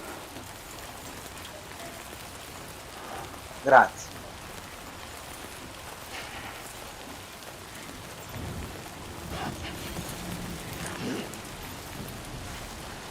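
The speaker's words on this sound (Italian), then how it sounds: "Piove." Steady rain falls throughout in Death Stranding 2, with a soft hiss and scattered drops; a single brief spoken word cuts in near the start.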